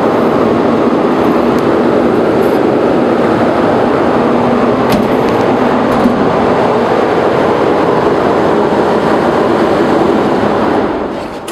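A blower on a hydraulic lift and a big roller run together in a loud, steady, continuous mechanical roar that fades slightly at the end.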